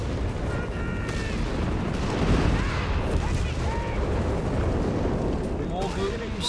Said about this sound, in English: We got meanwhile a massive artillery barrage there on the British, further causing casualty.